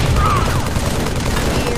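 Grenade explosion in a video game shooter, a loud close blast with rumbling burst heard briefly, with voices nearby.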